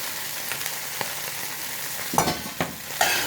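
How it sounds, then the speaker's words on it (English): Oyster omelette with spring onions and pepper powder frying lightly in a pan, a steady soft sizzle with a few sharper stirring scrapes near the end, no one talking. "So we just fry it lightly"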